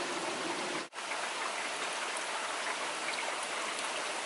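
Steady rain falls outside on a rainy Sunday, a continuous hiss of drops on surfaces with a brief dip near the start, otherwise even and unbroken, no voices.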